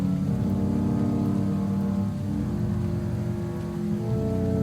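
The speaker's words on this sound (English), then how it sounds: "The acid rain may have scuffed me up a bit in the process, but it was worth it." Steady game-style rain hisses and rumbles continuously as acid rain in the video game Poptropica, a dense close wash with a low droning undertone and no talking.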